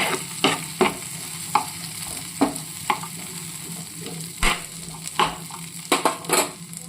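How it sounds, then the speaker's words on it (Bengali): White sauce pasta ingredients fry lightly in a pan, a soft steady sizzle under repeated irregular scrapes and clinks of a utensil stirring against the pan. "একটু নাড়াচাড়া করে নিয়ে হালকাভাবে ভেজে নেবো বেশি ভাজবো না খুবই হালকাভাবে ভাজবো"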